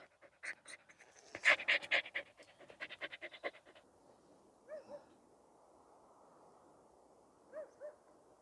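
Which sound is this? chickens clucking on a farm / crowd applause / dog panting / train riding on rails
dog panting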